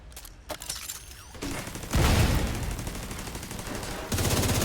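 In a video game, gunfire shoots at mini tanks: rapid bursts of automatic fire and shot impacts, growing louder and denser as the clip goes on.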